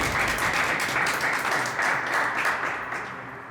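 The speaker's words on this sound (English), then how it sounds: "And can we give a round of applause for Karen Fisk?" An audience gives a round of applause at a community event, a loud, sustained burst of many hands clapping that holds steady and then tapers off near the end.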